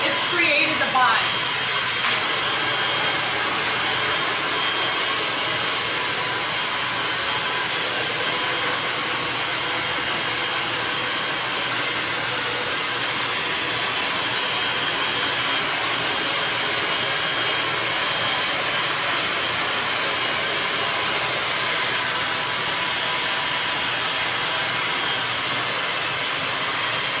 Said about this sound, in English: I put the heat in the blow dryer and I let it sit for a minute and I cool